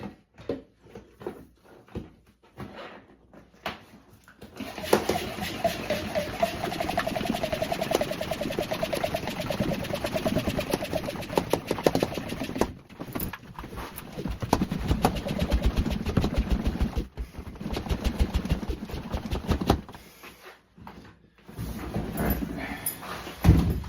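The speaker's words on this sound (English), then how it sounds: "I'm gonna pump it up and we'll see if it holds air" A hand pump pushes air into a repaired inflatable boat patched with PVC cement, a rapid repetitive mechanical pumping and hissing that runs steadily for most of the stretch, with brief pauses between bursts.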